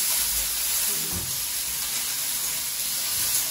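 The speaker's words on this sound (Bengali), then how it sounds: "পেঁয়াজ কুচি দিয়ে ফোড়নটা করবো" Chopped onion fries in hot oil in a pan, a steady close hiss and sizzle with a soft low stirring thump early on, no talking.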